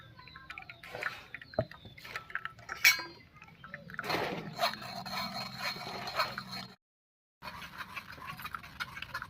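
Mango juice being strained through a sieve into sugar syrup comes through as scattered clinks, taps and light splashes of a utensil against a metal pot, with a brief silent gap before the clinking resumes.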